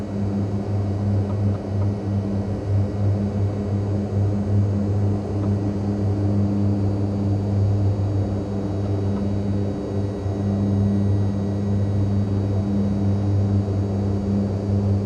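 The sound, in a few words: Skyvan propeller aircraft flying in Microsoft Flight Simulator 2020 video game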